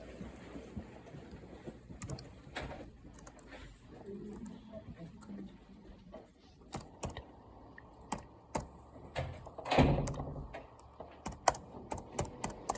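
Rapid computer keyboard typing, quiet and close, with irregular bursts of key clicks over a low background murmur; a louder cluster of keystrokes lands near the end.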